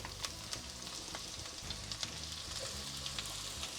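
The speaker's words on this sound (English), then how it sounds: "So half of the onions are going to be sauteed." Onion sautéing in a pan of oil and butter gives off a steady, close sizzle with faint crackles and occasional soft stirring scrapes, with no one speaking.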